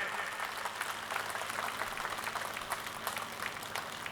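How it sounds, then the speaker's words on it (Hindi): Applause from an audience at a political election rally, a steady crowd-wide patter of claps that holds at a moderate, somewhat distant level for the whole stretch, with no voices over it. "मैं सभी से चाहूंगा एक बार जोरदार ताली बजे।"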